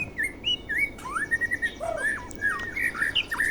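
A white-rumped shama (murai batu) sings loudly up close, a run of varied clear whistled phrases and chirps that follow one another with brief gaps and no talk.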